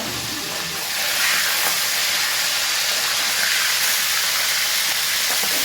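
Hilsa fish lightly frying in a pan at home gives a loud, steady hiss and sizzle that swells slightly after the first second and holds evenly throughout, with no voices.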